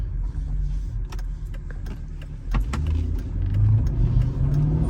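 Interior road noise in a 2003 Mercedes SL500 with coilover suspension, a low engine drone rising and falling, plus scattered small clicks and rattles throughout.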